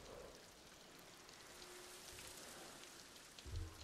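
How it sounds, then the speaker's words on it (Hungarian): Steady rain falling in the video game Ghost of Tsushima, a continuous soft hiss of raindrops on surfaces with a brief low thump near the end. "Hát simán beesik az eső"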